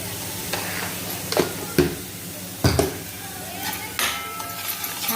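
Spices and salt dry-roasting in a pan for a river fish curry: a soft, continuous sizzle with a few sharp scrapes and knocks of a spoon against the pan, close by.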